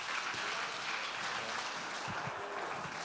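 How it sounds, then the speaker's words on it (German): Soft, continuous applause from a church conference congregation welcoming a guest speaker, a brief wash of many hands clapping at a distance. "lass uns ihn noch mit einem großen Applaus begrüßen"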